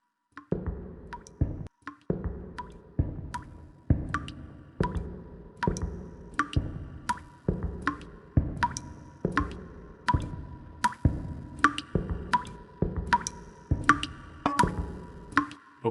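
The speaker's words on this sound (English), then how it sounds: "I guess I'll just have to walk towards the dripping sound." Steady, evenly spaced drips or plinks of water leaking from a pipe in a video game repeat roughly every second, each with a short resonant tail, over a quiet hum.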